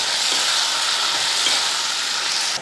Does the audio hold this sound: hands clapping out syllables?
no